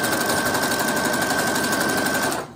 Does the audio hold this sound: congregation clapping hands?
no